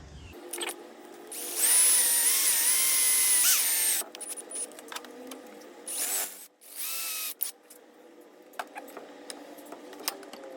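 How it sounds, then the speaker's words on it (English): A power drill whirs in bursts, drilling out the center hole of a homemade nunchuck clamped in a vise, a long high-pitched run followed by shorter spurts, with clicks and handling noises between them. "I'm gonna drill out the center hole"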